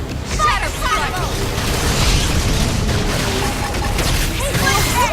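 Fiery attack explosions in Xenoblade Chronicles X, a dense barrage of booms and bursts rolling continuously at steady loudness, with game voices and sound effects layered throughout.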